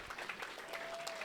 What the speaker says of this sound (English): How about a big round of applause for our good friend?